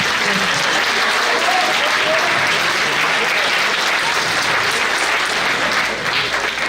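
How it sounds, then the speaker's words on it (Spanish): Applause at a university conference for the communication department: a dense, sustained wash of clapping from a large audience, loud and unbroken throughout. "Les pido un aplauso para la dirección de comunicación"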